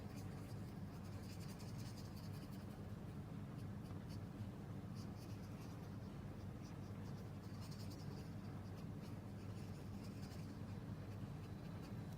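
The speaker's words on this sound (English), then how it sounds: "let's colour in that flower" Shimmery paint colouring in a hibiscus flower on a card, a faint continuous scratching and brushing of the tool on shimmer paper, steady and close with no talk.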